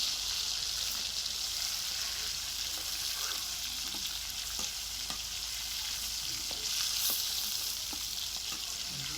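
Large pieces of fish frying in oil in a black iron wok, a steady soft sizzle with light crackles and occasional faint ticks from the utensil.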